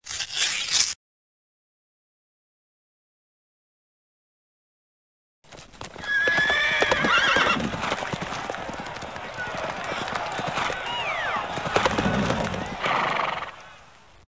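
At a Kentucky Derby horse race, hooves clip-clop and a horse neighs. After a short burst and a long silence, a steady, loud stretch of hoofbeats and whinnies runs for about nine seconds.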